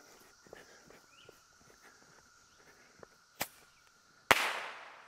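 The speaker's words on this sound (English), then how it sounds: "I'm going to light one more bottle rocket." A bottle rocket firework is lit outdoors in the morning, with faint crackles and small pops before a sharp bang and a loud hissing whoosh as it launches near the end.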